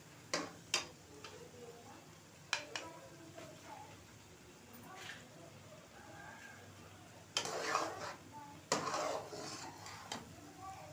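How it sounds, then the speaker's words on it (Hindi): A spoon stirs semolina halwa with sugar syrup in a pan. It makes intermittent clinks and scrapes against the metal, sometimes louder, alongside quiet background talk. "चाशनी डालने के बाद चम्मच मुसलसल हिलाते रहना है"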